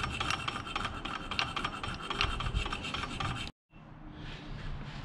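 A hand file scrapes a burr off a Yamaha YZ250F motorcycle clutch plate during an engine rebuild, giving close, steady rasping strokes that stop briefly near the end before resuming.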